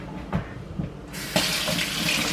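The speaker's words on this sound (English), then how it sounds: "I gotta wash my hands off, you know." Water runs steadily from a kitchen tap into a sink for hand washing during muffin baking, starting as a soft splash and becoming a constant broadband rush for over a second.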